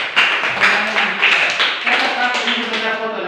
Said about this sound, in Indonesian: Oke, sudah tepuk tangan.